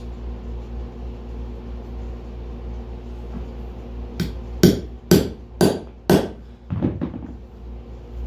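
A steel punch hammered through a thick, knotty chunk of old mesquite wood in a workshop: five sharp, evenly spaced strikes close by, then a quicker pair of lighter taps over a steady low hum.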